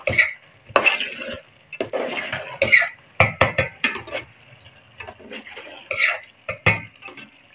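A spoon stirs dried fenugreek leaves (kasuri methi) into a chickpea and spinach curry in a pot, with repeated scraping and clinking strokes in short uneven bursts, close and fairly loud.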